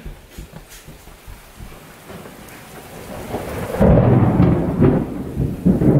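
Thunder crashes during lightning in a Super Smash Bros video game, a low rumble building into a loud, close roll with a sharp crack midway, heard alone with no voices.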